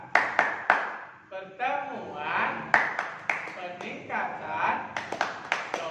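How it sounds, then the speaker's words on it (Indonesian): A group in an Indonesian training session performs the rhythmic P2K2 clap, sharp bursts of hand claps in a patterned beat with chanted voices mixed in between, close and lively. "Mari kita tepuk P2K2, masih ingat kan?"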